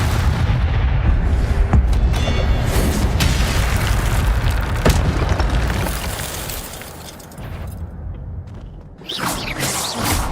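Fiery spell blasts from the Incendio fire spell in Hogwarts Legacy, loud booming bursts rolling continuously through a battle with guards, with sharper cracks breaking through and a brief lull before a final surge.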